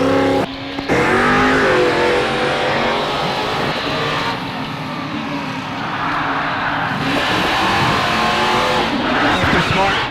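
A fire truck races around a track at a state firemen's drill in Clayton, engine roaring steadily with tire noise and a brief squeal, while an announcer talks over the loudspeaker throughout.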